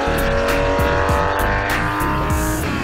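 A 1963 Ferrari GTO racing car's engine roars and revs loudly and close, with rising and falling pitch sweeps and sharp throttle blips throughout, and no talking.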